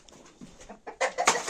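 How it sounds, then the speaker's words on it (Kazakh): Hens in a lit coop give soft, scattered clucks and short calls nearby, faint at first and then a louder burst of squawking toward the end. "Тауықтар жатыр. Міне жатыр."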